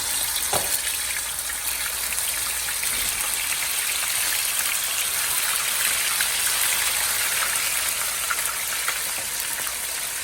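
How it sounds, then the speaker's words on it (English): Okra frying in hot grease gives a dense, steady crackling sizzle that holds evenly throughout, close and continuous, with a couple of faint knocks early on and no talking. "I'm gonna start the second round in the grease"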